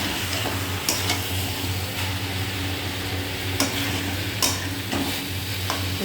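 Chicken pieces stirred through spice masala in a hot pan, with steady sizzling and recurring scrapes and clinks of the spoon against the pan at irregular intervals, close and continuous, with no talking.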